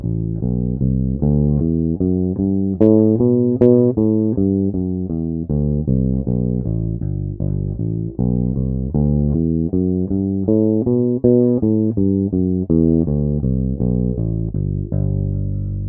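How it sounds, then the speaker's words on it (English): Bass guitar playing a practice scale note by note from the root up to the tenth and back down, a steady even run of clear, sustained low tones with no talking. "practice this scale from the root up to the 10th and back again"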